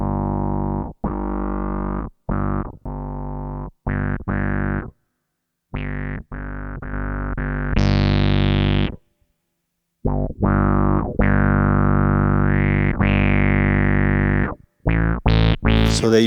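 Bass synth tone shaped by filter cutoff, drive and envelope, played as a series of short and sustained growling notes with gaps between them, some swelling brighter as the filter opens.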